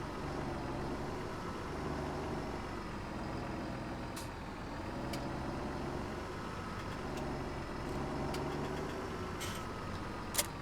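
A tractor engine idles in the video game Farming Simulator 17, a steady low rumble that holds throughout, with faint clicks over it and no talking.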